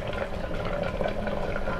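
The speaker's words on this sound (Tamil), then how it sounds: "ஒரு கொதி வரும்போது நல்லா கிளறி சேர்மானமாக நல்லா வரும் வரைக்கும் கலக்கி விட்டுருங்க" Boiling mixture for mushroom biryani bubbling steadily in a pot while being stirred, a continuous close, even simmering hiss with soft churning throughout.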